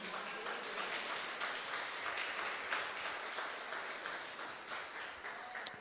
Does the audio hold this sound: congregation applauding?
yes